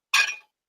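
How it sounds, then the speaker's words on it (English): A sword snaps onto a cobra head in one brief, bright metallic clink that rings for a moment and then fades, close up and alone. "That's the sound of the sword being attached to the cobra head."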